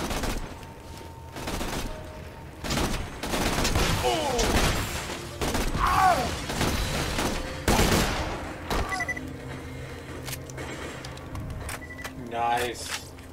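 Fire-element weapon shots in Borderlands 2 crack in repeated bursts, some rapid and overlapping and others spaced apart, loud and close, with people talking between and over them.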